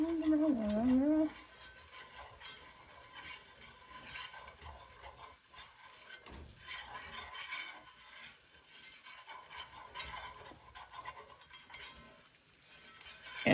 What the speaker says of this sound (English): you'll just begin to stir that around and around and around and around and around.